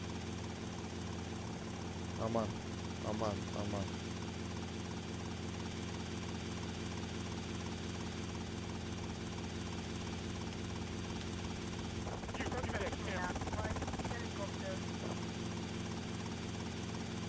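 A helicopter in GTA Vice City drones steadily throughout with a constant engine and rotor hum, while voices talk and exclaim briefly over it near the start and again toward the end.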